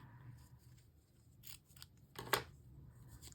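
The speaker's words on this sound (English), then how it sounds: "Get my scissors out here." Quiet room tone, then a few crisp scissor snips, the sharpest one loud and close near the end.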